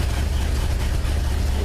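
A 1974 Ford F250 engine running just after a cold start, a steady low rumble held loud and close throughout with no break.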